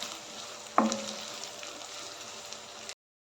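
Chopped ginger sautéing in a pan for tuna pickle, a soft steady sizzle with a brief clink of a utensil near the start, ending abruptly after about three seconds.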